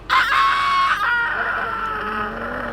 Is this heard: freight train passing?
no